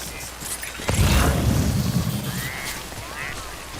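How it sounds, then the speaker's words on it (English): Rain pours steadily in the video game Death Stranding, a low rumbling boom swelling near the start before easing into a continuous wash of rainfall. "Way to bring me back to the rain"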